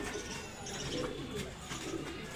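Pigeons of the Palla line, a male and female pair offered for sale in North Jatrabari, coo softly and continuously over steady background noise.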